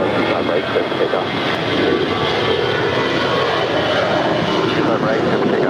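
An aircraft takes off at Los Angeles International Airport, its engines a broad, steady roar heard at a distance, with air traffic control radio talk layered over it.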